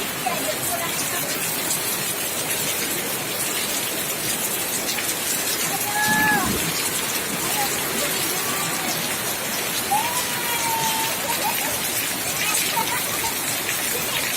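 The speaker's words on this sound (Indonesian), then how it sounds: "Ayo kita mandi hujan." Heavy rain pours steadily outdoors while children play in it, a continuous loud hiss of falling water with children's voices and squeals mixed in over the top.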